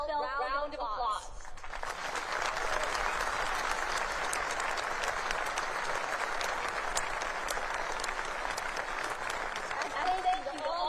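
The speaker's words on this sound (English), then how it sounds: "please join me in giving them a heartfelt round of applause." Crowd at a naval academy graduation and commissioning ceremony breaks into long, sustained applause, a broad roar of clapping that rises after a brief quiet start and holds steady before tapering at the end.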